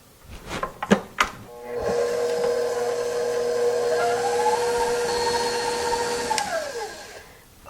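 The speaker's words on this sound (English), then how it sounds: "Now we're going to turn on our stand mixer." A stand mixer whirs steadily, creaming butter and sugar for Christmas cookies, after a few knocks and clunks of setup, then winds down near the end; loud and close with no talking.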